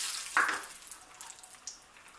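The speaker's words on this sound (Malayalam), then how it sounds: "ഈ ചൂടായി വെച്ചേക്കുന്ന നെയ്യിലേക്ക് നമുക്കിനി കശുവണ്ടി പരിപ്പും ഉണക്കമുന്തിരിയും എള്ളും കൂടി ഇട്ട്" Cashews, raisins and sesame seeds hit hot ghee with a sharp sizzling burst, then settle into a steady, softer crackling fry close by, with a brief flare of spitting near the end.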